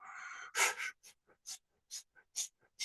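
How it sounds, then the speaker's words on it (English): A sharp, audible inhale followed by a series of short, soft breathy puffs spaced irregularly, close and fairly quiet. "Double pump inhale."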